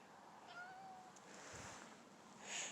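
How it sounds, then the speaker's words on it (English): Outdoors on a freezing night, a cat meows to be let inside, a faint distant mew or two under low background hiss, with no talk. "And the cat wants to go in,"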